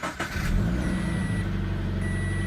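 A Subaru BRZ engine fired up after an oil change, running with a loud, steady low rumble and a brief rise in revs near the start.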